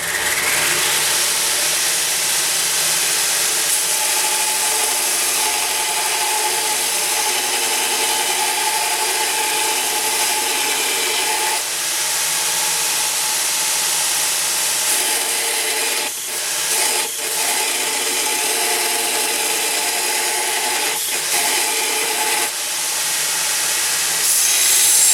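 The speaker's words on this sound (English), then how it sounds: "There is very little belt slip and the machine will cope easily with heavy grinding pressure." A small Chinese linisher belt grinder under heavy grinding pressure, a loud continuous abrasive rasp and motor whine lasting throughout, with a few brief dips where the workpiece load eases.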